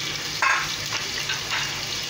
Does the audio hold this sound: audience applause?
no